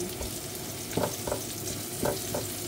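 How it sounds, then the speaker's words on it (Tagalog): Chicken curry aromatics sautéing in a pan with steady close sizzle, broken by a few sharp scraping stir strokes, no voices. "ginigisa ko muna yung mga ingredients niya para mabango"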